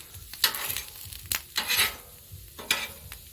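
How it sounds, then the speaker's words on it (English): Food browning on a Blackstone griddle, with several sharp bursts of sizzle and scraping as it is turned and spread out over a low, constant frying hiss, heard close and with no talking. "just brown them up, get that little bit of char on them, add that flavor"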